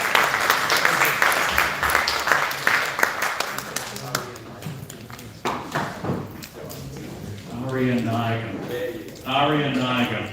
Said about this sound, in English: A round of applause, please, everyone.